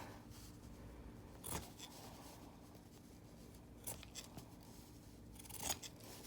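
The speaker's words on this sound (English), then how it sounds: "I'm not the greatest with the pinking shears, as you can see." Pinking shears cut through Kraft-Tex in three quiet, spaced crunchy snips, with soft handling rustle between them in a hushed room.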